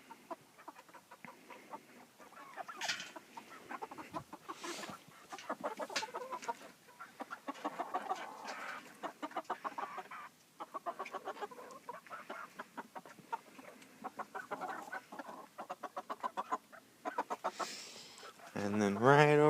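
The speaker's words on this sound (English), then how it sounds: "then I got some of the spring chicks over here in this coop." Spring chicks, bantam Americanas and Polish, cheep and cluck in a backyard coop, a busy stream of small calls at moderate distance with quiet gaps between.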